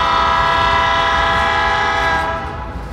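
A freight train hauling Soo Line cars sounds a loud, sustained horn up close while rolling through a rainy switching yard. The blast holds steady for nearly three seconds, then eases slightly at the end.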